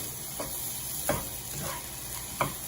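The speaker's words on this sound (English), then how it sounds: "You can hear that sizzle." A steady, close sizzle of about three cloves of minced garlic frying in a pan for soup, with a few soft spoon scrapes stirring through it and no voices.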